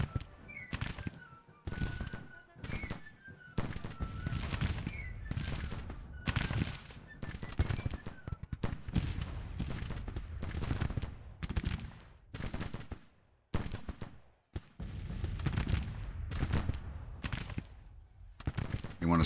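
Rifle volleys from Civil War troops in Grand Tactician, sharp irregular cracks popping steadily over twenty seconds, some close and loud, others scattered and distant, with faint battlefield background between shots.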